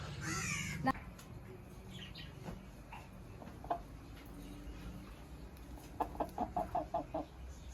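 Faint clucking from a hen that has just laid an egg, with a short burst of rapid, rhythmic clucks near the end over quiet background noise.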